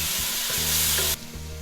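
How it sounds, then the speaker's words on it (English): Onion frying over medium heat, then ginger and garlic paste added to the pan, giving a dense, close sizzle that hisses loudly and then suddenly drops to a quieter frying crackle. "Once the onion starts turning light brown, add ginger and garlic paste."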